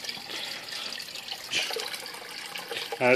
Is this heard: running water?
yes